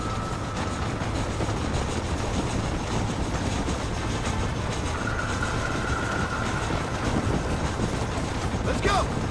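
A train in the video game Red Dead Redemption 2 rumbles steadily throughout, a continuous mechanical roar with a brief high squeal near the end, with voices faintly mixed in.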